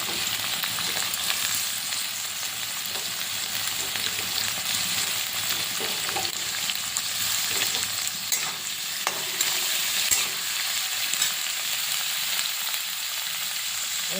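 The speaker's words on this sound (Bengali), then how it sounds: "এইগুলো একটু হালকা ভাজা ভাজা হবে, তারপরে বাকি সবজিগুলো দিয়ে দেবো।" Vegetables frying in a pan for street-style chowmein, a continuous bright sizzle with occasional stirring scrapes and clicks, close and fairly loud, with no talking.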